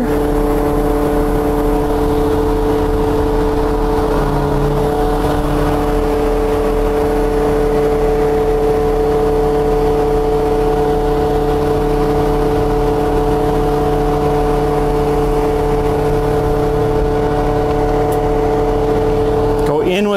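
A Bourgault 7000 Series conveyor or auger is raised, with a loud steady hydraulic hum and engine drone running throughout, close and continuous.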